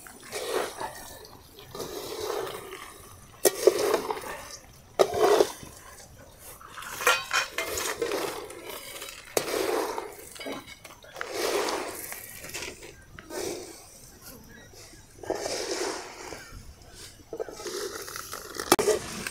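Roasted poha for village-style crispy chivda is stirred and heated in a small kadhai, with a spatula scraping and clinking against the metal in irregular bursts that run steadily throughout.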